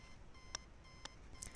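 Alarm in an internet cafe simulator game sounding three short, faint electronic beeps, evenly spaced about half a second apart, over a quiet background.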